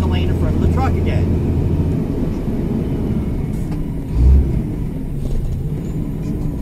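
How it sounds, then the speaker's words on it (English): Loud, constant low road rumble inside a moving truck cab, a heavy droning roar with people talking over it. "I just wanted to show people how loud the inside of a friggin' truck is."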